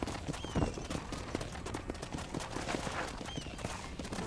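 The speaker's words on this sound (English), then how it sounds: "Hit your horse and wait for me by the stable." Horse hooves clip-clopping in the Western video game Red Dead Redemption, a steady run of hoofbeats over busy game ambience and background noise, fairly quiet throughout.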